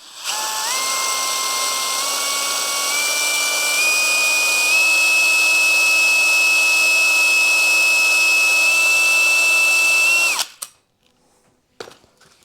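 A drill spins a stone hone inside a brake pedal bushing from a 1980 Suzuki RM 400, giving a loud continuous whine whose pitch creeps slowly upward for about ten seconds before cutting off, followed by a few faint clicks.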